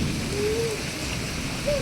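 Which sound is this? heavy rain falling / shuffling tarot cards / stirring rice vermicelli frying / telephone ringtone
heavy rain falling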